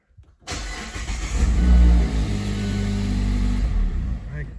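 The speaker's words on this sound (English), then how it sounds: "start the engine." A 2016 Mazda MX-5 Miata engine cranks and catches after a short silence, settling into a steady, close idle with a brief rev swell early on; no one speaks.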